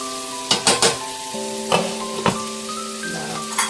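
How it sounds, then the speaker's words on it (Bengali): Chicken frying in a pan on low heat, a steady close sizzle running throughout with a few sharp spatters and clinks of stirring. "দেখো আমার চিকেন ফ্রাইটাও হয়ে এসছে।"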